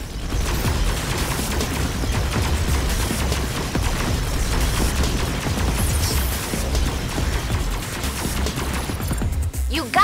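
Sustained, loud gunfire with rapid bursts and booms fills the action of the video game Agents of Mayhem during a boss fight, dense and continuous throughout with no clear pauses.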